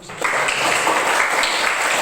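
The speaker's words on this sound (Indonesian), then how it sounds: "Tepuk tangan dulu." Students clap together in a classroom, a steady dense patter of many hands that starts abruptly and holds at an even level for a couple of seconds with no talk over it.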